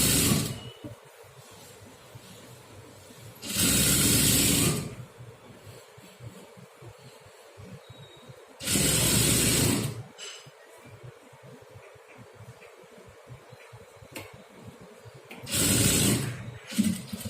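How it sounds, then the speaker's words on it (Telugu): A sewing machine stitches the double-folded hem of a dress in three separate bursts of steady, loud whirring, each lasting one to two seconds, with quiet handling noise between them. "ఇప్పుడు కిందికి కూడా స్టిచ్చింగ్ చేస్తున్నాను"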